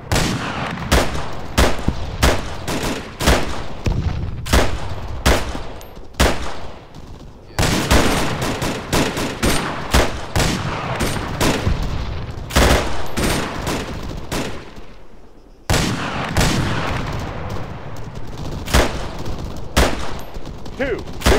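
Bursts of rapid automatic gunfire and single shots crack repeatedly in an Arma 3 firefight, loud and close, broken by brief pauses, with radio-style voices now and then.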